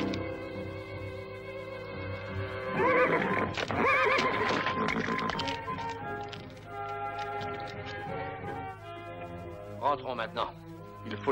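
A horse on a period TV western set neighs loudly in a long shrill whinny, followed by shorter nickers, with hoof clip-clops and background music nearby while voices talk.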